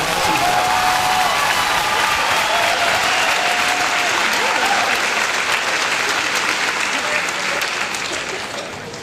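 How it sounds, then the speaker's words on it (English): Loud, dense applause from the crowd at the 2017 Cumberland County High School graduation, a continuous roar of clapping with faint voices mixed in, tapering slightly toward the end. "A round of applause."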